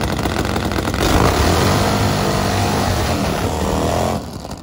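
A Pro Fuel carbureted nitro Harley drag motorcycle making about 450 horsepower roars loud and close, holding a dense sustained blast before dropping off sharply near the end.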